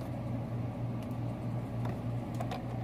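A sewing machine runs a quarter-inch seam through flannel fabric, a faint, even mechanical hum with a soft rhythmic stitching pulse and a few light ticks.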